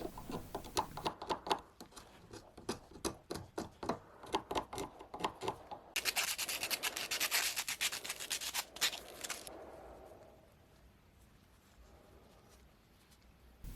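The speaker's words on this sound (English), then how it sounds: "I gave it a sand down to smooth it over." Sanding an old wooden knob from a vintage Record No. 0220 block plane by hand, rapid rhythmic rubbing strokes close up, quiet overall, easing into softer steady rubbing and then fading near the end.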